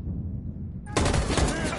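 Gunfire in Detroit: Become Human erupts suddenly after a quieter low rumble, a loud, rapid burst of shots that continues to the end.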